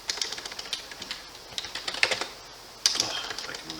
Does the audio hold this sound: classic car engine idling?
no